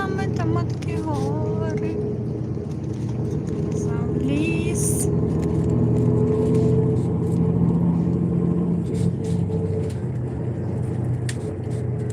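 A car drives along a road through forests, a steady low engine and road rumble heard from inside, with a voice talking over it.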